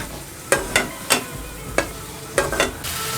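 Chicken spleen sautéed over medium heat in a pan, with a steady sizzle under about six sharp scraping stirs of a spoon, spaced irregularly.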